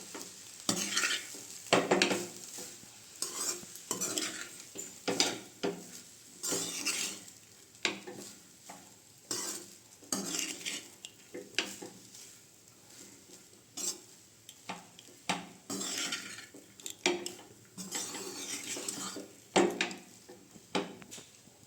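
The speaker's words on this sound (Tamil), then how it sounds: "இப்போ வந்து இதை ஒரு மிக்ஸ் பண்ணி விட்டுக்கலாம்" Basmati rice being stirred in a frying pan for corn fried rice: repeated scraping strokes of a spoon against the pan at an uneven rhythm, close and fairly loud, over a light sizzle, with no talking.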